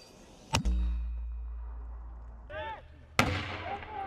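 Artillery gun firing during a military live-fire training drill: two loud, sharp blasts about two and a half seconds apart, each with a low rumbling tail, and a brief shout between them.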